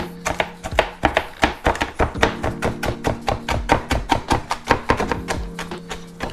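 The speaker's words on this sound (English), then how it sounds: "So we'll go ahead and get this all diced up here and add it to the bag of bacon we've already got." Knife chopping crisped bacon on a cutting board, a steady run of quick, close, crisp taps that stay fairly loud throughout with short pauses between bursts, no voices.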